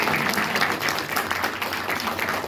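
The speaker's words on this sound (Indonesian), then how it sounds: "Tepuk tangan dulu." An audience at a university send-off ceremony for community-service students applauds in a loud, continuous wash of clapping that holds evenly throughout.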